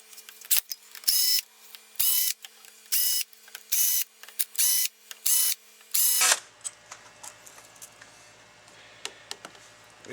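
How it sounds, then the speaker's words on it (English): Screws are backed out of the vacuum-side casting of a Buick AC 4304 unit with a power driver: about seven loud, close whirring bursts in a steady rhythm, then quieter ticks and handling clicks. "So let's get going to take these screws off."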